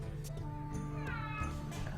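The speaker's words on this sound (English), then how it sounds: "My cat, he's a talker." A pet cat meows a few times, faint and drawn out, over a low steady background hum.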